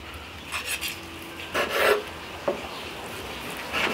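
A knife slices through caramelized chicken fillets grilled on a kamado, producing rasping scrapes and soft cuts on a board, with a couple of longer drawn strokes and a light click, close and moderately quiet.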